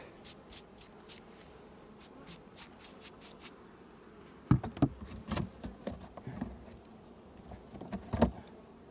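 Honey bees buzzing around a beehive in summer during lime-blossom honey season, a soft continuous hum with individual bees zipping close by, alongside intermittent handling clatter and knocks of hive frames.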